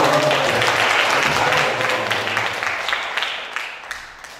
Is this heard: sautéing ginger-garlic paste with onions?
no